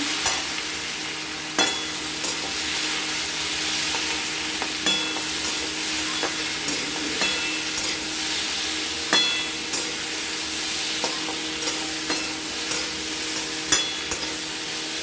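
Food frying in a home kitchen pan hisses steadily while a spatula stirs it, giving regular scraping clicks and taps across the whole stretch, close up and without any talking.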